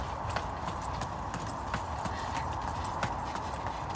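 Rhythmic horse hoof clip-clop, steady and moderately near, with faint background noise and no talking.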